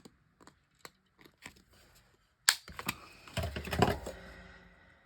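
A corner punch rounding the corners of a paper tag, heard as a run of small light taps followed by a louder crisp crunching punch and rustling paper, close and alone.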